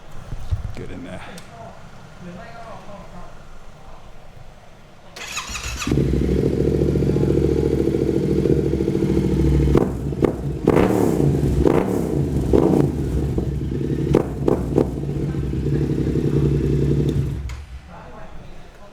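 A 2022 Yamaha R7 with a titanium carbon exhaust starts up and revs hard nearby, holding a loud, raspy roar for about twelve seconds with sharp blips, then cuts off; a voice speaks before the engine fires.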